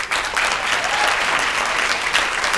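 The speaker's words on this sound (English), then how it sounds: "Let's give her another hand clap." A gala audience at an NAACP event claps in a dense, even burst of applause that holds steady throughout, loud and close, with no voices heard.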